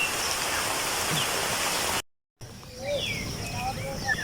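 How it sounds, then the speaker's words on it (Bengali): Steady hiss of rain falling, broken by a brief silent gap, with faint birds chirping over the downpour afterward. "আজকের সকালটা শুরু হলো বৃষ্টি দিয়ে"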